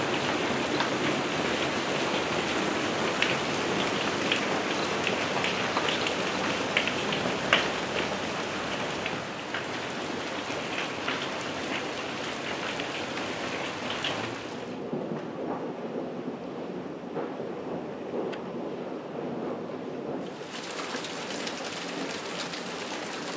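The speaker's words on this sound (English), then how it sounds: "Let's have some hailstones." Dense, steady drumming of hailstones on a carport roof, a continuous rattling roar that dips briefly in the middle, with no voices.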